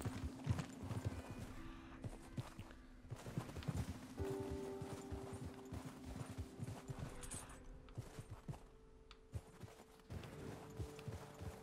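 In the video game Red Dead Redemption 2, a horse's hooves clip-clop in a fast, steady rhythm over rough ground, moderately loud, with faint tonal game sounds underneath.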